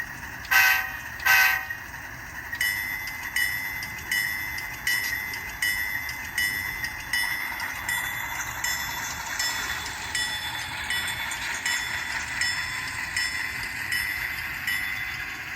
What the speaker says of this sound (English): we're gonna see if both locomotives are capable of pulling this string of AutoRacks